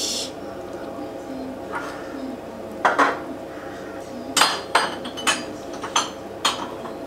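Homemade spring rolls (nems) are set one by one onto a metal oven tray, giving a series of sharp metallic clinks and taps, about half a dozen close together in the second half, over quiet kitchen background.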